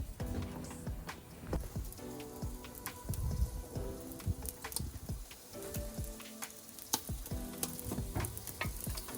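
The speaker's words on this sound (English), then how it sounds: "Five minutes searing the fat, then it's just salt and cook." Fat on a thick cut of meat sizzles and sears in a hot pan at a bayside glamping camp, a continuous crackling hiss broken by irregular sharp pops and spits, close and fairly quiet with no talking.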